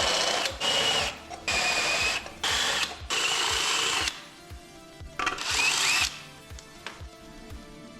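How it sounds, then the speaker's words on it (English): A power drill enlarging holes in steel steering parts for an electric drift trike, running in several loud whining bursts of about a second each, separated by short pauses with ratcheting clicks. "So I'm gonna enlarge them till they're the same size as this hole down here."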